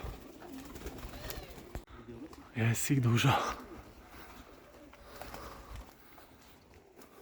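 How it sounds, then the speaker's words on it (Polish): Pigeons coo in a short burst of soft, throaty calls, with people talking over them and outdoor background noise. "Ostry gołąb."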